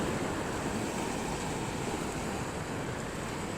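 Sea waves washing onto a shore at the water's edge, a steady broadband rush of surf with a wind-like hiss, continuous and fairly loud through the whole stretch, with no voices.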